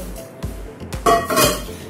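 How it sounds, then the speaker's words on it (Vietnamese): The inner pot of an electric rice cooker being lifted out, a few close metallic clunks and light clinks in quick succession within a short moment. "Ruột nồi cơm này, bỏ ra, không cần ruột nồi cơm."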